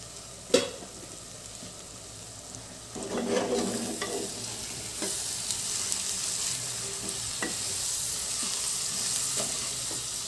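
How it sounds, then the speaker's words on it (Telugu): Salted onions fry in a pan for an Andhra-style mutton curry, with a sharp utensil knock early on, then a louder, continuous sizzle and intermittent stirring scrapes and clicks. "ఆనియన్స్ లో ఉప్పు వేస్తే ఏంటంటే ఆనియన్స్ కూడా మనకి బాగా ఫ్రై అవుతాయి ఆనియన్ సేగుతున్నాయి"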